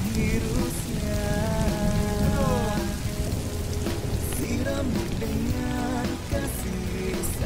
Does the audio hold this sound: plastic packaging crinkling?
no